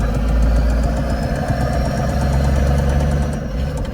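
A turbo diesel OM603 engine swapped into a Mercedes 380SL roadster runs loud and close, a steady rough clatter with a deep rumble and knocking rhythm throughout, tractor-like and shaking heavily.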